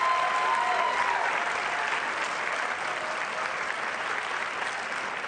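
A dog show crowd applauds a dog in the Best in Show judging at the National Dog Show, with dense, steady clapping across the arena that eases slightly over five seconds.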